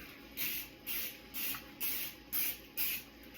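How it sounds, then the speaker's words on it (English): Cooking spray hisses onto a baking pan in six short, even bursts, each about a third of a second long, faint and close, with no talk. "grease this pan"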